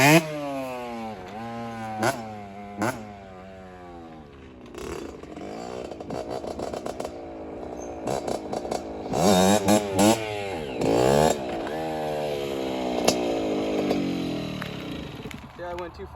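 A dirt bike engine revs hard in rising and falling bursts during a wheelie, close and loud, with the pitch repeatedly climbing and dropping as the throttle is worked.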